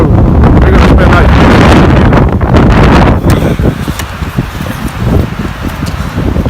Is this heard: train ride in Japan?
no